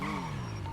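A motorcycle engine in a video game drones and then drops in pitch as the bike passes, with a faint tire squeal, a brief burst heard alone.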